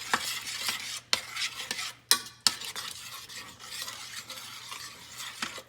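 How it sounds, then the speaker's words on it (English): Tomato sauce for huevos rancheros cooking down in a pan, a soft steady sizzle broken by spoon scrapes and a couple of sharp clinks against the pan, close and fairly quiet. "We want to let it reduce down and cook off some of the liquid and get it to thicken up a little."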